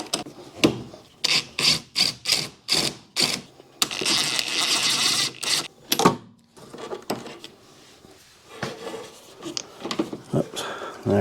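Ratchet and socket loosening clutch cylinder nuts on a 1980 Toyota FJ40 Land Cruiser, giving a run of short, close, rhythmic ratcheting clicks in bursts, then a longer scraping rasp and scattered metallic knocks.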